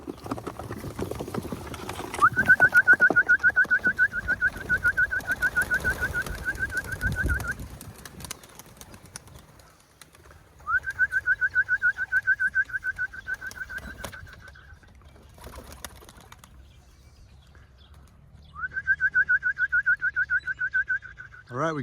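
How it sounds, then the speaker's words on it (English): Pigeons let out of their loft to fly give long bursts of steady, bright whistling tones that come and go in three stretches, separated by quieter gaps with low background rumble. "All right, we got a white bird out flying."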